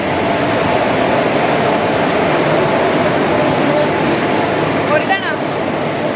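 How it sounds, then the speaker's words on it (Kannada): A train pulls into a station, a loud continuous rumble and roar filling the whole stretch, with a brief squeal of wheels or brakes near the end. "ಓಕೆ, ಫೈನಲಿ ಟ್ರೈನ್ ಬಂತು."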